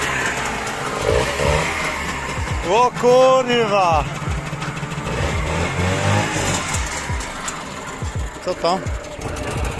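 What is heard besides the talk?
Trabant 601 replacement engine starting and idling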